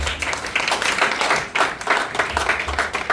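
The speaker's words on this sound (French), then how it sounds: "On acclame la parole de Dieu." A church congregation applauds and claps together, dense broadband claps sustained throughout with a few louder swells, some voices faintly mixed in.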